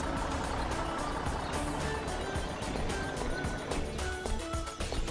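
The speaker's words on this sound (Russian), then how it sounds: "Это мусоровоз." A large garbage truck pulls in with a rumbling engine, while a series of evenly spaced reversing beeps sounds over the motor.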